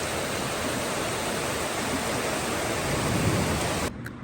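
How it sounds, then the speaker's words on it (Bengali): Steady monsoon rain pours outside in a continuous, even hiss that fills the whole clip at moderate loudness and then drops away sharply at the very end, with no clear thunder standing out. "অনেকক্ষণ ধরেই বৃষ্টি হচ্ছে, বাইরেও মেঘও ডাকতেছে।"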